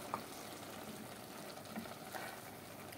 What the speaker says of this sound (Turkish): Yani soğanlarla birlikte, domateslerle birlikte bamyaları da kavuruyoruz.